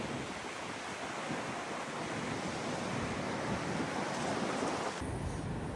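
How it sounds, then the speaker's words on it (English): Strong wind blows across a farm, a steady, loud roaring rush with no clear breaks that fills the whole stretch and eases slightly near the end. No one speaks. "Some power in that wind."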